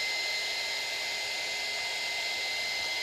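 Steady, loud blowing whoosh of a heat gun pushing hot air onto shrink plastic, a constant hiss with no pauses or voices.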